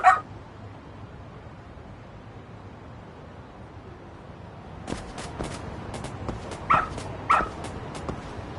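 A dog in a PS5 video game barks, with a sharp bark at the start and a couple of short yips later, over quiet game ambience and faint footsteps.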